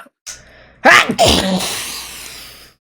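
During a tabletop Dungeons & Dragons session, someone sneezes loudly and close by, a sharp sudden burst preceded by a brief intake of breath and trailing off into a short exhale.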